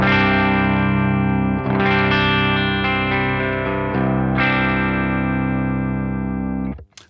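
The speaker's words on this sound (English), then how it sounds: "that is the sound of the clean channel of the Kraken" An electric guitar tuned to drop C plays through the clean channel of a Kraken amp, ringing out in rich sustained chords that change every second or so and fade out at the end.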